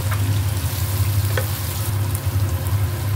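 Over a cup of chopped onions frying in hot oil while a wooden spatula stirs them, a loud, close, continuous sizzle with soft scraping and a couple of faint knocks.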